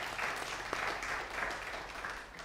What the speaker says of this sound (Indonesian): Boleh saya minta tolong saudara semua untuk kasih tepuk tangan apresiasi.